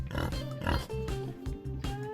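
A person's voice imitates a pig with a run of nasal, grunting oinks in quick, uneven bursts, close and fairly loud.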